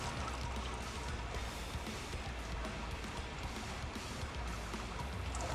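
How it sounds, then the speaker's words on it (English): Water pours steadily into a Brewzilla Gen 4 mash and boil system in a continuous, fairly quiet rushing stream, with no breaks and no voices. "So then now we'll dump our water in"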